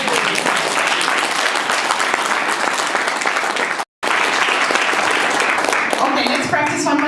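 Loud, dense applause rises from a seminar audience, breaks off abruptly for a moment, then resumes with voices talking over the clapping.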